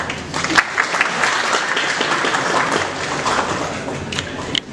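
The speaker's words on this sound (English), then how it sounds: "So you're supposed to clap for that" An audience at a BBA orientation claps together, a steady, full burst of applause from many hands that holds for several seconds before ending abruptly.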